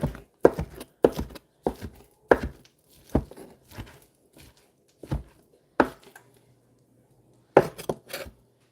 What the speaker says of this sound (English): I can give it a little more chopping action while we're waiting on it.